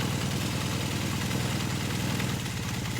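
A 1978 Kawasaki KZ400 motorcycle engine runs steadily just after its exhaust and carburetor are installed, a close, loud, continuous rumble with a rapid, even pulsing throb and no talking.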